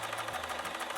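A Bernina sewing machine running quilting stitches gives a short, fast, even whir with a faint ticking rhythm, close by and fairly quiet.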